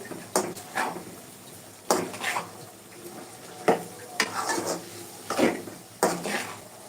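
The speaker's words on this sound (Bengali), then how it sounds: "এটাকে সম্পূর্ণ নাড়াচাড়ার মধ্যে রাখতে হবে না হয় পুড়ে যাবে রসুনটা" Garlic being stirred in a pan for garlic pickle, with a soft sizzle and repeated scraping clinks of a utensil against the pan at irregular intervals, no talking.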